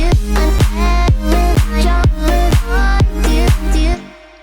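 An electronic dance drop hits hard, with a booming kick on a steady four-count, pumping sidechained synth chords and layered claps, loud and driving before cutting off into a brief fading tail.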